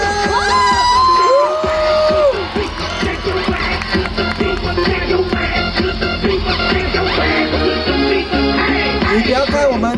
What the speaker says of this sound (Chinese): 来点掌声加尖叫声！